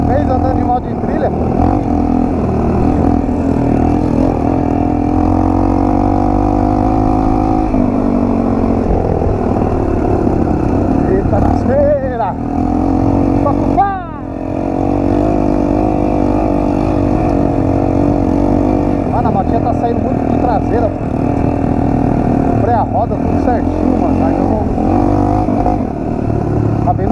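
A Yamaha XTZ 125 trail motorcycle engine drones and revs steadily while riding a trail, loud and close, with wind noise throughout and a voice talking over it.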